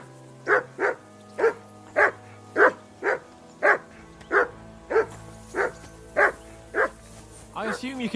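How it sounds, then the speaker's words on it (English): A dog in the video game Kingdom Come: Deliverance II barks repeatedly at a steady pace, about a dozen loud, evenly spaced woofs, ending in a flurry of quicker yelps. "I assume you can hear that damn dog of yours barking."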